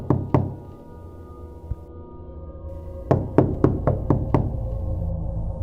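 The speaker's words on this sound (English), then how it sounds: "A knocking sound." Two knocks on a door, a pause with a faint single tap, then a fast run of six sharp raps, loud and close in a quiet house at night.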